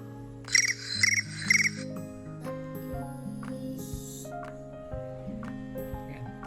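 A cricket-chirping ringtone plays as part of a ringtone guessing game: a few rapid, high trilling chirp bursts near the start, set over soft background music and faint room noise.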